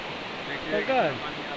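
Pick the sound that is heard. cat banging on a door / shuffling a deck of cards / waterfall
waterfall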